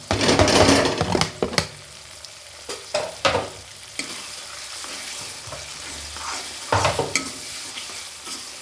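Tomatoes go straight into hot oil in a pan for a pea curry. A loud hiss bursts up at first, then settles into steady sizzling broken by scraping stir strokes.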